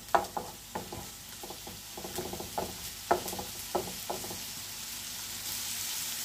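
Eggs going into a pan of frying pointed gourd: soft crackling sizzle with a run of sharp scraping and tapping clicks from stirring, quiet and close, with the sizzle swelling near the end.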